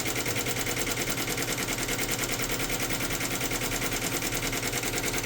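An embroidery machine stitches a sample logo, a fast, even mechanical chatter that runs steadily throughout at moderate level with no speech.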